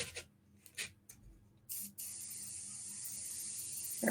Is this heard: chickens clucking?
no